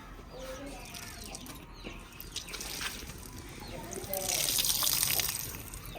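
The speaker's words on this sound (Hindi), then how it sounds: "अब बारिश का पानी आ रहा है, पानी काफी ऐसे होता लगता है।" Rainwater runs and splashes steadily at a home, a soft continuous flow that swells louder toward the end, with bird cooing and wing flutters nearby.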